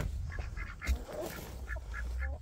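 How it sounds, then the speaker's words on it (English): White ducks on a farm quack repeatedly in short, nasal bursts at close range, several calls in quick succession over a low background rumble. "these white ducks are really getting on my nerves"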